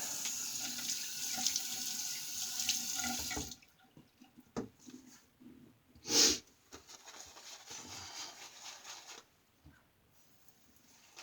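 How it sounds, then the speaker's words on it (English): Tap water runs steadily into a bathroom sink for several seconds while a face is wetted before a shave. The flow then stops, leaving quieter splashes, a sniff and one sharper burst of water. "Wet the face."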